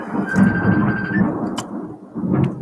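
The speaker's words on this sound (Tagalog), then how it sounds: "Malakas po ang kulog po rito sa amin." A loud, deep rumble of thunder rolls close by, swelling and fading over a couple of seconds with a short crackle partway through.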